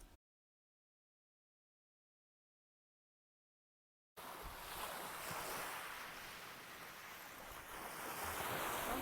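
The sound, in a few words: ocean waves at Gili Air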